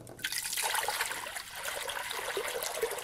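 Water poured into a cooking container set up for a thermostatically controlled cooker: a steady, close splashing stream that continues throughout without a break, with no talking.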